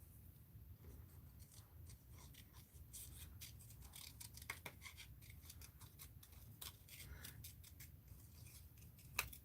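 Scissors trim around a Forever postage stamp cut from a magazine, giving a steady run of small close snips and paper rustles with a few sharper clicks, set against a constant low room hum.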